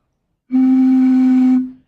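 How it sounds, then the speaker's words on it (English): One loud, steady whistle tone sounds for about a second, blown as a physics classroom demonstration, starting abruptly and cutting off cleanly, clear and close with no talk over it. "a whistle"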